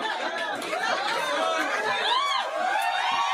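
A large crowd at a live political speech by Kamala Harris, steady chatter and cheering with rising whoops and laughter throughout, fairly loud and continuous.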